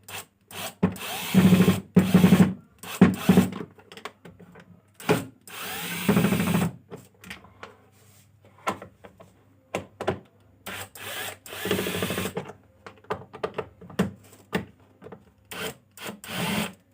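Screwdriver work on a Prestige PIC 3.1 induction cooktop during an E3 error repair: bursts of rubbing, clicking and scraping as screws are loosened and removed, close up, with intermittent pauses and no talk.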